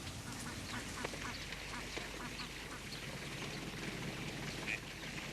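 A flock of Peking ducks quacking in the Chinese countryside, with many overlapping calls at a moderate distance over a steady outdoor background.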